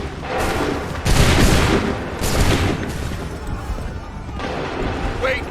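A musket volley cracks out in Assassin's Creed 3 Remastered, a loud burst of gunfire followed by further shots and rumbling battle noise, with voices heard around it.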